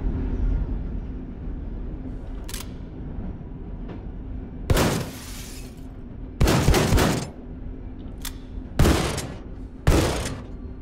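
A heavily damaging shotgun being fired in the shooter Wolfenstein: The New Colossus, several loud, booming blasts spaced a second or two apart over a steady low rumble of game ambience, with no voices.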